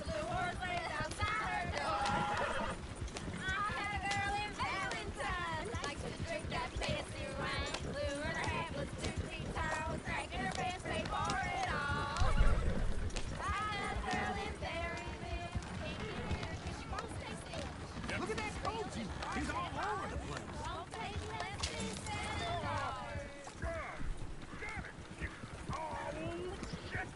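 Horses' hooves clip-clop steadily with occasional whinnies in a Western video game set around Valentine, running throughout under almost continuous talking and background game sound.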